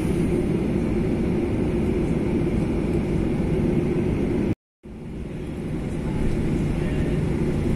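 A Malaysia Airlines jet's engines drone loudly and steadily while taxiing in a takeoff queue at Kuala Lumpur, with a brief cut of silence partway through before the rumble resumes.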